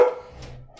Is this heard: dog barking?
yes